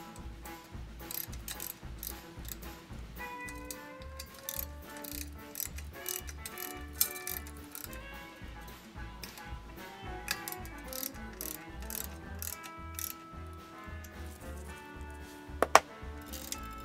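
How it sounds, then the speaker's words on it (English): Hand tools tightening the frame of a 7.5-inch narrow gauge, 2.5 scale 2-4-0 steam locomotive kit: quiet, steady rapid ratchet clicking with small metallic knocks and one sharp clank near the end; no speech. "Here we tighten back up the frame."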